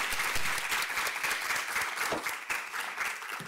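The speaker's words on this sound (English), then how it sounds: "Let's give Ryan a round of applause." An audience at a global health career event gives a speaker a round of applause, a dense, continuous wash of many hands clapping at close range with no talk.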